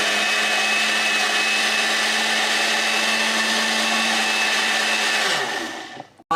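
A large blender blending bananas runs steadily at full speed with a high, even whine, then winds down and stops near the end.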